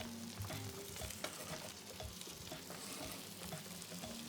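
Stewed cabbage, peeled apple and potato sizzling in a pan as they are stirred together, a soft, steady crackle with faint scraping of the spoon, no voices.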